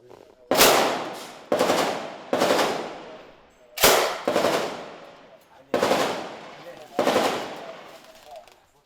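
Gunfire from fighters shooting at the enemy during the battle for Sirte, six or seven loud, sharp bursts spaced about a second apart, each one echoing and decaying before the next.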